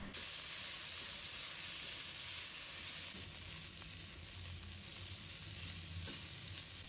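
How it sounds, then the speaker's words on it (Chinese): Beef brisket stir-frying in a hot wok with no added oil, giving a steady, loud, close sizzle and crackle with faint stirring scrapes throughout. "把锅烧热，然后把牛腩放入锅中炒"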